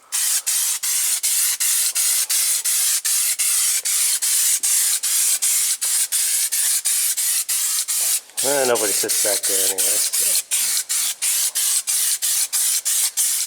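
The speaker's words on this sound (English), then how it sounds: "I'm just going to spray the crap out of this thing and make it smell and look amazing" A 1970 AMC Gremlin back seat gets doused with cleaner in a rapid, steady run of short, loud trigger-spray bursts, briefly broken by a short spoken remark before the spraying resumes.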